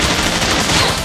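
Rapid automatic gunfire from a machine gun in the video game Bot Vice, a dense continuous burst of shots lasting about a second, loud and close with no voices over it.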